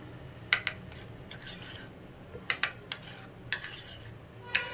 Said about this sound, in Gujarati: અત્યારે તો મિક્સ કરું છું ગાઈસ, તમે જુઓ.